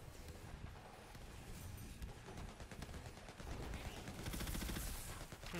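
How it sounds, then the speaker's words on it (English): Rapid gunfire from Tiny Tina's Wonderlands, a fantasy shooter, with overlapping bursts layered over dense game effects and music that swell louder toward the end. "I'm shooting everything, trust me."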